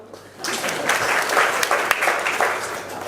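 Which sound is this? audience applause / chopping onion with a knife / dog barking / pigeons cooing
audience applause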